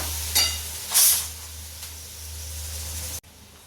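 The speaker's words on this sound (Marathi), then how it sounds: "कांदा कांदा चांगला परतून देते" Onion sautéing in a pan for bread upma makes a moderate sizzle, with a couple of sharper hissing bursts from stirring over a steady low hum, and it stops suddenly at the end.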